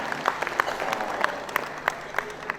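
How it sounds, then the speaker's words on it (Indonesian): Applause from a gathering of PKK chairwomen from across West Java province at an official event, heard as steady, moderately distant clapping with distinct sharper claps standing out throughout. "tepuk tangan semuanya"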